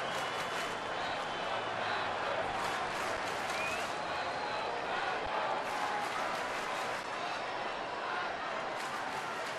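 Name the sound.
baseball crowd at Tigers game in Detroit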